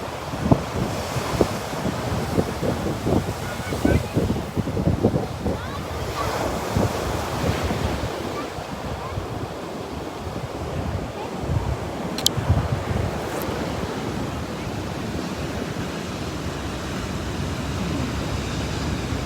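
Ocean surf breaks and rolls steadily near a sea arch, a loud continuous wash of waves with heavy wind buffeting the microphone and no voices.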